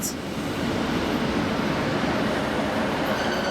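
A diesel passenger train, unit 156468 bound for Carlisle, rumbles steadily nearby at a station with a broad, continuous roar of engine and wheel noise and a brief high squeal at the start.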